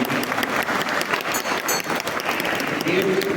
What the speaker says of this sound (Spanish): Un aplauso a estos hermanos.